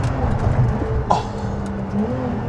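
A LaFerrari hybrid supercar accelerates, its low engine drone rumbling close and loud, then climbing in pitch toward the end of the short burst.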